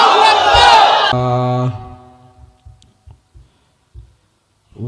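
A large crowd at a Bengali Islamic sermon gathering roars a unified chant of Allahu Akbar, loud and sustained for about a second, then a long held tone and a series of soft low thumps fading out.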